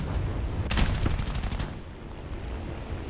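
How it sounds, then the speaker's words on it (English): Machine guns on an XA-38 Grizzly attack aircraft in War Thunder fire a rapid burst of .50 caliber rounds lasting under a second, loud and close over a steady engine rumble that continues afterward. "I'm firing just the 50s here"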